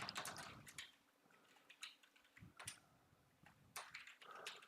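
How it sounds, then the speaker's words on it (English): Quiet clicking of someone typing on a computer keyboard, with irregular bursts of keystrokes and short pauses, faint and close with no talk. "Oh, here I'm typing in."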